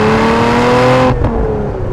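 A supercharged V6 Lotus Emira with a manual gearbox accelerates hard from a standstill with a little wheelspin, its loud, close engine roar holding steady before cutting off abruptly partway through.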